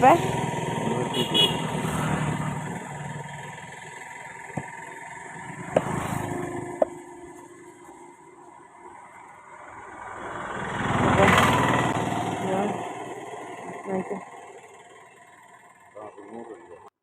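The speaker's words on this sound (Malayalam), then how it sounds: "വണ്ടിയൊക്കെ ഈ റോട്ടിൽ കൂടി പോകുമ്പോൾ നല്ല ശബ്ദമാണേ" Motor vehicles pass on a busy main road beside a meat market in Vaikom, a loud engine swelling past near the start and another building and fading around the middle, with people talking underneath.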